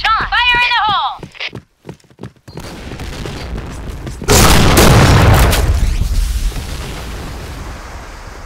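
A grenade goes off in a video game: a shouted voice line and scattered clicks and footsteps come first, then a loud, sudden blast whose rumbling roar slowly fades over several seconds.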